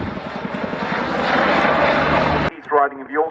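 A Chinook helicopter flies past at an air show, its dense, loud rotor and engine roar sustained for about two and a half seconds before cutting abruptly to quieter sounds with voices.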